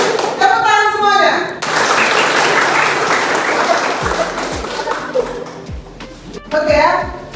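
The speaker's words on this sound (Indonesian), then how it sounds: "Tepuk tangan semuanya." Children in a classroom break into a burst of applause that rings loud and close, thins into scattered claps, and then settles under voices.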